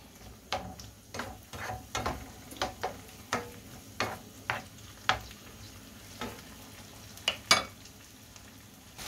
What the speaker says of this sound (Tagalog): ilagay ko na guys ang kamatis, ang tomato, at halo-haloin natin ulit